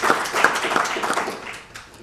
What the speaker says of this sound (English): I think that also deserves another round of applause.